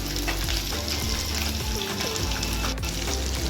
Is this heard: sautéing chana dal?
yes